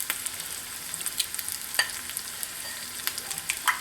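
Ingredients simmering in a pan while being wilted, a steady soft crackle and fizz with scattered light pops and occasional stirring clicks, close and continuous with no talk.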